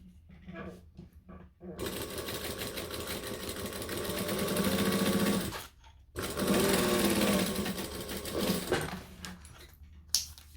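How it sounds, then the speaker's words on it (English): Sewing machine top stitching the folded fabric lip of a clutch bag, running in two loud, steady close bursts with a short pause between, after a few faint handling clicks. "then we're going to top stitch that lip"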